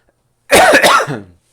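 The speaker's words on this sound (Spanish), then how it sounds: "Perdón, un poco de tos." A single harsh cough, close and loud, in a short burst with a throaty tail, surrounded by silence.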